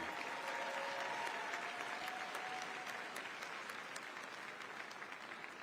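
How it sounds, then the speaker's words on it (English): A convention audience in a large hall gives sustained applause, a steady dense clapping that fades slightly toward the end, with no talking over it. "Let's give them both another round of applause."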